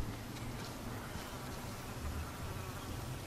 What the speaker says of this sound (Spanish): Siento un ruido, ¿eh? Una mosca.